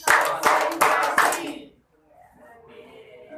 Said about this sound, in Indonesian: Tepuk empat kali.